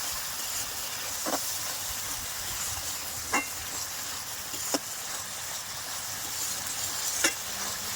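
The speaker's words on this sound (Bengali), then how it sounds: "এটা দিয়ে আগে মশলাটা ভালো করে কষে নেব।" A spice paste for a rohu fish curry with coconut milk is sautéed in a pan, giving a continuous sizzling hiss with occasional sharp scrapes and taps from the stirring spoon.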